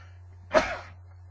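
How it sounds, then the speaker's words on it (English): A single sharp human sneeze, close and loud, bursting out in a brief rising puff against a quiet room with a steady low hum. "that's the first sneeze I've had all day"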